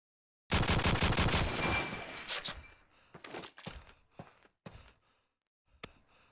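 Rapid automatic gunfire rattles in Call of Duty 2 during a competitive match, a dense close burst followed by scattered single shots and short bursts with gaps between them.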